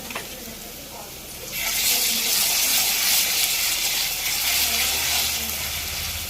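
Chopped onions and green chillies frying in oil in a pan, the sizzle jumping to a loud, bright hiss after a moment and then holding steady and close.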